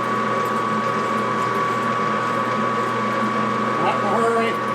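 A metal lathe taking a 30 thou cut runs with a steady mechanical hum and whirr, a continuous whine holding through, with a brief higher squeal near the end.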